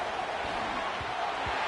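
Stadium crowd noise in a college football video game, a steady broad roar of fans that holds constant through the short moment.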